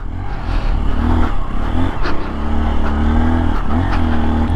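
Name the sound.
Honda XR150L dual sport motorcycle riding uphill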